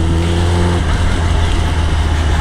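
A Kawasaki ZX10r motorcycle engine runs loud and close, holding a steady humming tone before rising into a broader rev, with no talk.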